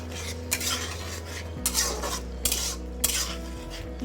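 Metal spoon scraping and stirring pointed gourd (potol) curry with tomato in a pan, a steady close scraping with several sharper clinks against the pan, no voices.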